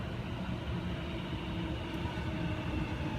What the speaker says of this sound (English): We have a Series 1 Waratah arriving to Platform 2,